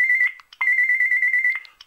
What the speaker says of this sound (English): You can set a ringtone specific to a person.